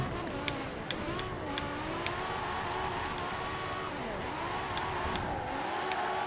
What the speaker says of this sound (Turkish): Arabanın bir driftini anlayayım.